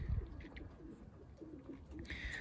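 Pigeons coo softly in low, rolling murmurs against a hissy background, with a brief higher chirp near the end.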